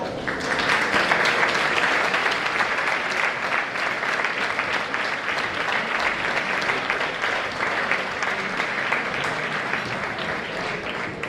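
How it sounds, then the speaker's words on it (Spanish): Sustained audience applause at an Asturian Christmas folk music gathering, steady and dense clapping throughout, loud and continuous with no clear voices on top. "un aplauso para aquellos trabajos"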